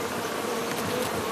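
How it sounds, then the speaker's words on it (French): Bees foraging in a forest make a steady, close buzzing drone, dense and continuous, with no voices. "les abeilles butinent"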